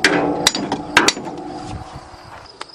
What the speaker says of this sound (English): hit it with a hammer a few times and hope the piston pops back